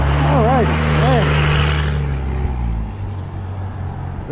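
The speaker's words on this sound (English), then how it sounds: "Very noisy truck." A loud truck engine roars close by in Ketchikan, Alaska, then fades as it passes, leaving quieter background rumble.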